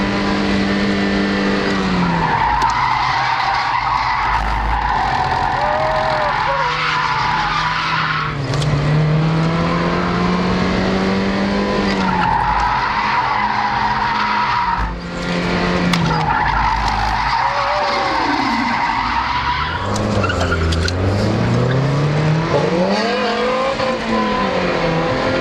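Mazda Miata drifting at a Bonneville drift event, a loud sustained engine note rising and falling through gears with long continuous tire squeal and skidding, close and relentless over the whole run.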